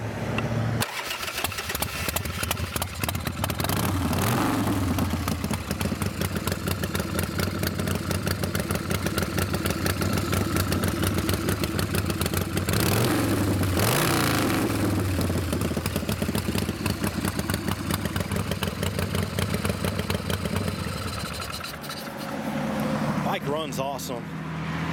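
An ASVE Hardtail Chopper motorcycle engine starts and runs at a loud, close, rough idle with a steady rumble and a couple of revs partway through, then cuts out near the end.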